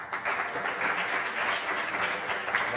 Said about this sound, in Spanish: Un fuerte aplauso para Óscar otra vez.